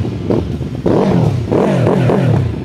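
A QJ Motor SRV 600 V-twin motorcycle engine revs up in several bursts against a 5,000 RPM soft limiter, its throaty pulsing climbing and falling back each time, loud and close with a rough, lumpy idle between blips.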